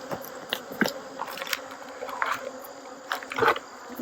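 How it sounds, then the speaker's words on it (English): Honey bees buzz at a hive entrance in Tennessee in October, a faint steady hum with individual bees droning closer and farther in passing swells. "I'm sure you're going to hear the bees now."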